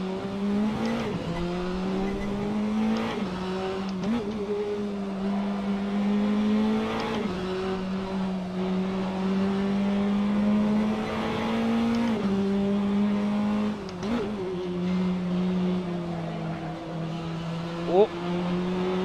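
Le Mans prototype-style race car with traction control and no ABS, its engine droning steadily at high revs with shifts and brief tire squeal, someone talking over it throughout.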